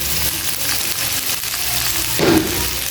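Garlic and onion fry in hot oil in a pan as filling for lumpia shanghai, giving a close, loud, steady sizzle with a brief stirring swell near the end.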